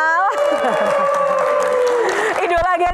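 A studio audience on an Indonesian talk show applauds and cheers the panelists in a loud, steady wash of clapping that runs the whole time, with voices whooping over it.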